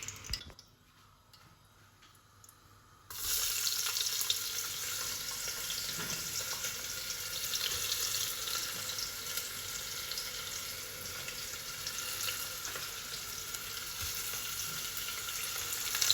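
Spices and onions frying in a pan for a chicken curry: after about three seconds of near quiet, a loud, steady sizzle starts and keeps up without a break, with no talking.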